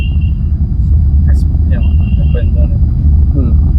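A car engine runs while driving, a steady low rumble from inside the cabin, under a driving instructor's talk about easing on the accelerator on an uphill road with a hump.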